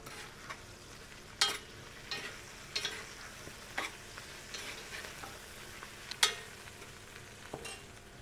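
Ceps fry and brown in a pan with a constant soft sizzle, broken every second or so by sharper scrapes and clacks as they are stirred.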